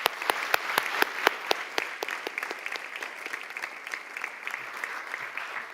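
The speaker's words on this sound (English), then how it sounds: "let's give a round of applause to these wonderful students today," An audience at a national youth entrepreneurship event gives a round of applause for students, with steady, close, crisp clapping that slowly thins toward the end.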